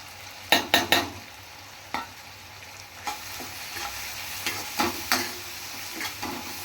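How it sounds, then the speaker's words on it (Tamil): Tomatoes, onions and chili powder fry in oil for a tamarind kuzhambu, sizzling steadily while a spoon stirs the pan, with several sharp metallic scrapes and taps close up, no speech. "எண்ணெயிலே போட்டு வதக்குனீங்கன்னா நல்லா ரெட்டிஷ் நல்லா கலர் கிடைக்கும்"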